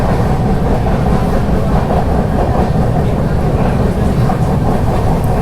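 A passenger express train runs on the Konkan Railway single track during monsoon rain, giving a loud, steady rumble with continuous rolling wheel noise throughout and no clear pauses.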